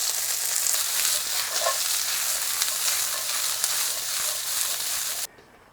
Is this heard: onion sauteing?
yes